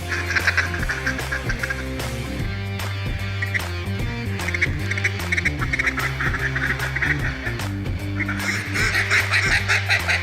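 A duck call imitating mallard ducks diving and feeding gives a busy stream of quacks and chuckles, repeated rapidly and fairly loud, set against steady background music.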